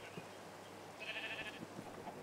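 A Minecraft sheep bleats once in a short, wavering call at moderate loudness, heard alone amid faint background game ambience during farm animal herding.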